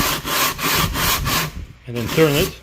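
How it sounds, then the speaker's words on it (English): An engine part from a Predator 212cc engine being rubbed across taped-down sandpaper wet with WD-40, with steady rhythmic back-and-forth scraping strokes up close, then someone briefly speaks. "Tape down your sandpaper, put a little bit WD-40 so it slides easier, and what you want to do is start in one direction"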